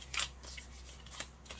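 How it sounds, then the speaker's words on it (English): A deck of playing cards that includes a joker is shuffled by hand, giving short papery riffles and snaps in a few quick bursts, close and fairly quiet over a low steady background hum. "I'm just shuffling these a bit and get that joker stuck in there."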